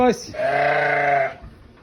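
A single sheep bleats once, close and clear, a wavering cry lasting about a second, during livestock loading.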